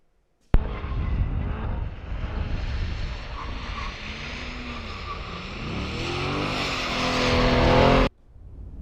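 A Corvette drifts, its engine roaring steadily as revs climb and tires scrub for several seconds, loud and close, before cutting off abruptly.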